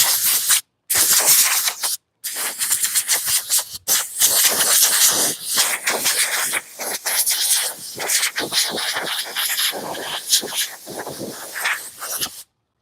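Aerosol spray paint on a chainsaw-carved wooden piece: loud hissing bursts in quick repeated sprays with brief pauses between, close to the mic.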